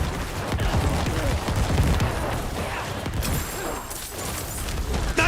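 Corpse explosions in Diablo IV erupt as dense, crackling bursts amid chaotic combat noise, loud and continuous, with a sharper, brighter blast near the end.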